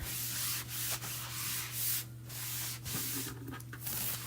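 A cloth rubs moisture off a surface being prepared for chalk painting, producing close, rhythmic scrubbing strokes in short bursts with brief pauses between them, over a low background hum.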